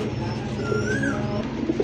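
A khaki pigeon at a pigeon sale coos in a low, continuous rolling murmur, close by, with faint bird chatter in the background.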